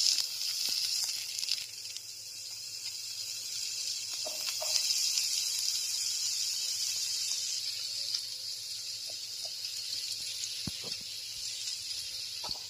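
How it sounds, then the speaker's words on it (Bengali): Chopped potatoes frying in a pan, a soft continuous sizzle heard fairly faintly with occasional small clicks and taps of utensils and no speech. "এবার আমাদের যে কুচিয়ে রাখা আলুগুলো আছে সেগুলো এক এক করে এই পাত্রের মধ্যে আমরা দিয়ে দিচ্ছি"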